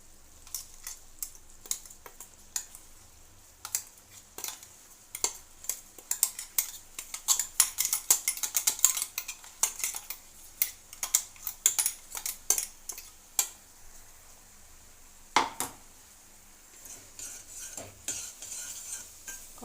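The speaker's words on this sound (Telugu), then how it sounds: "కొబ్బరి బాగా కలిసే వరకు కలుపుకున్నాం" Ground coconut is stirred into thick sugar syrup in a pan for sweet coconut treats. Quiet, close, irregular scraping and tapping of a spoon against the pan continues throughout, with no talking.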